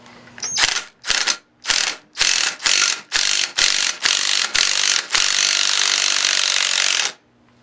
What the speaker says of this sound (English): I like to use the impact on this particular tool because it gives it an extra degree of pull because it's actually hammering it just a little bit.